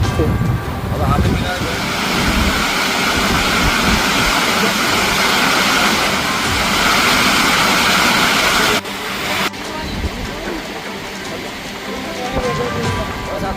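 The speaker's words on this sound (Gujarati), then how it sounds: "ઓરસંગ બે બે કાંઠે વહી રહી છે" The Orsang river overflowing the Jojwa weir near Bodeli, Chhota Udepur: a loud, unbroken roar of rushing, tumbling water close by, with a voice faintly beneath it.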